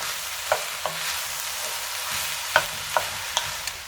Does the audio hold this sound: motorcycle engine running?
no